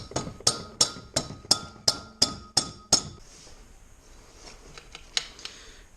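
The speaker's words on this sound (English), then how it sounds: "you may have to hit it with the hammer some more" A hammer strikes the valve guide on a Honda 300ex top end about nine times in a quick, even rhythm, each blow a sharp metallic clink, then a few softer, scattered taps follow.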